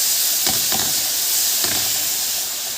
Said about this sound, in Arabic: هنزل بالبصل بتاعي اللي انا مقطعاه كده علشان اشوحه بالشكل